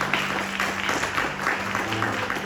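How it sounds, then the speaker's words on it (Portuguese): A church congregation applauding Jesus during a worship service, a moderate burst of clapping from a crowd with a low hum underneath, continuing steadily through the short stretch. "Aplauda Jesus, por favor."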